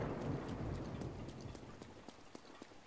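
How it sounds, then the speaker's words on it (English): Thunderstorm in the video game Zelda: Breath of the Wild, with steady rain hissing and soft rumbling thunder, plus a few sharp crackles of lightning toward the end, all at a quiet level. "Lightning."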